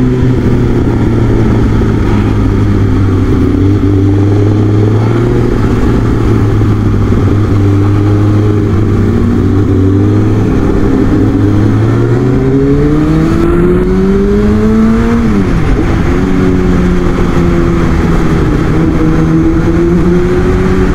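A big motorcycle engine droning while riding, loud and continuous, its pitch holding steady and then rising and dipping as the throttle changes, with no talk over it.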